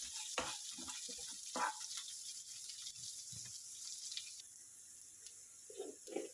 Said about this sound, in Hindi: इसे ऑनियंस को थोड़ा सॉफ्ट होने तक चलाऊंगी